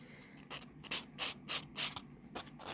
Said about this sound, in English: You are now going to buff your natural nail and get this last little bit of residue off with your soft block.